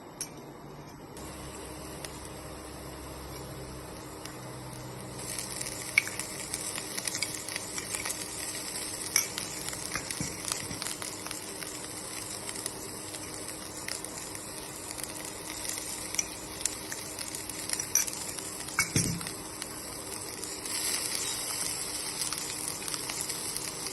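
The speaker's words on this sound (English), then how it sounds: "the oil is heated up and I have put the garlic, ginger and green chili. I'm sauteing it a little." Ginger, garlic and green chili saute in hot oil, giving a steady close sizzle throughout, with frequent scraping and clinks of stirring against the pan.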